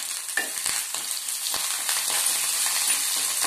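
Curry leaves and coriander hit hot oil in a pan while making atukula upma, giving a steady, loud crackling sizzle throughout with a few sharp pops and faint stirring clicks, no talking.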